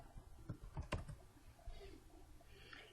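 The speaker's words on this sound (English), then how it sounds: "type your first and last name." Keys tapped on a computer keyboard in a brief, uneven burst over a steady room hum, then quieter background; no speech.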